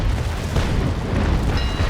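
A cannonball striking a wooden ship in the Naval Action sailing game, a loud, deep, rumbling boom that fills the whole moment with no voices.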